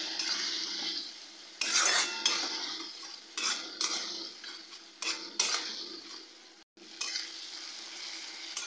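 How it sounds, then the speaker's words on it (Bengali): Ginger and garlic paste sautéed in a pan gives a soft sizzle under repeated stirring, with bursts of spatula scraping and metal clinks recurring every second or so, and one brief silent break. "আদা রসুনের কাঁচা গন্ধটা না যাওয়া অবধি কষিয়ে নেব।"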